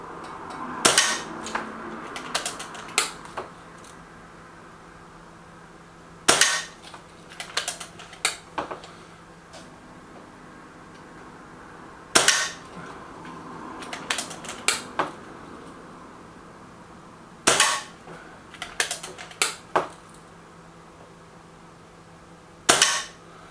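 Reximex Pretensis .22 air rifle firing Jumbo Express pellets: five sharp, loud single shots spaced several seconds apart, each followed by a few lighter clicks and handling noises, with a low hum between.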